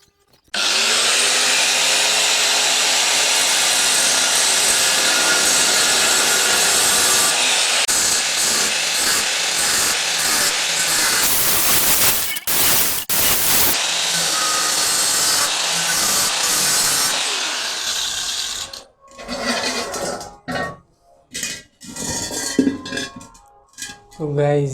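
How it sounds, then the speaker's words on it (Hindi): An angle grinder cuts through a steel gas cylinder at home, ready for it to become a metal melting furnace. The harsh, loud grinding runs steadily for most of the clip, then breaks into shorter bursts and pauses near the end. "इसी निशान पे हम इसको ग्राइंडर के साथ काटेंगे।"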